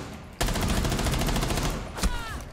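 In Rainbow Six Siege, sustained gunfire comes after a short quiet start, a loud rattling burst of shots that runs for about two seconds with a sharper crack near the end.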